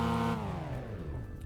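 Rotary engine of a Mazda RX-7 in the racing game Test Drive Unlimited 2, a steady loud revving drone whose pitch sweeps down after a brief high hold, alone without talk.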